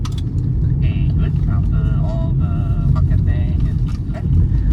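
A 2025 BMW 330i M Sport hums steadily while being driven, a low continuous engine and road drone heard from the cabin, with scattered clicks and brief tonal bits over it.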